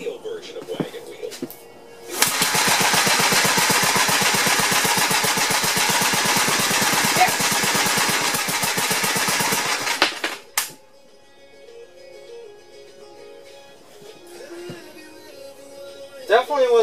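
A 1957 Gravely walk-behind tractor engine, just freed of a sticking exhaust valve, fires up and runs with a loud, rapid, steady chatter for about eight seconds before cutting out abruptly, followed by quieter background noise.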